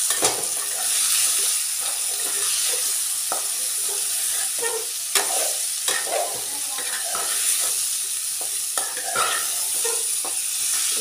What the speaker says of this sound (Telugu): కాలీఫ్లవర్ వేసుకొని కలుపుకోవాలండి